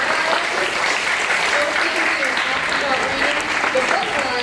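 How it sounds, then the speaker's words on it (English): Dense, steady audience applause at an elementary school Battle of the Books reading competition, continuous clapping throughout with faint voices underneath. "let's give a round of applause to the incredible reading"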